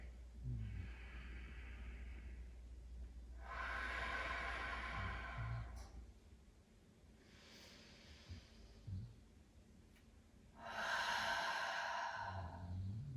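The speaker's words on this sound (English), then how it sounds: "Let's take 3 breaths here." Slow, deep breaths are taken while standing in yoga mountain pose: several long, audible inhales and exhales, close to the ear, some sighing, with a steady low hum beneath and no speech.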